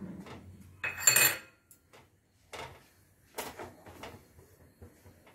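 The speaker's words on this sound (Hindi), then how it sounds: "ये जो बेसन है उसको भून लेते हैं हल्का सा" Gram flour roasting in ghee in a pan, stirred with a spoon: close, irregular bursts of scraping and clinking against the metal, loudest early on, then a few shorter strokes separated by quiet gaps.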